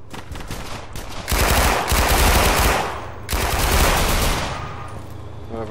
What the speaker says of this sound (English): Whoever's got that Thompson's going ham over there.